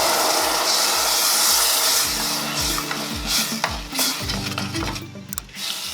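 Tamarind water goes into hot oil with frying chili and coriander powders for a Kongu-style fish curry, setting off a loud, steady sizzle, with a spoon scraping rhythmically against the pan close by.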